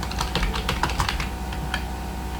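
Rapid, steady clatter of keys on a computer keyboard as a name is typed, close and fairly loud, with quiet hum underneath and no voices.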